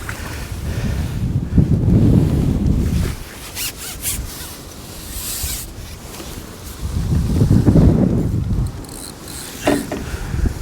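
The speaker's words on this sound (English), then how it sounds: "Oh, wind's blowing my pole onto my van again." Gusty wind buffets the microphone at a lakeside fishing match, two broad roaring surges rising and falling with quieter rustling and faint mechanical clicks between them.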